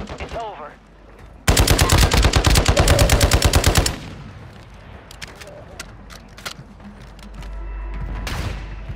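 Gunfire rings out in a shooting video game with a sniper on a mountain: a loud rapid automatic burst lasts about two seconds, followed by scattered single shots and game noise, with a voice speaking briefly near the start.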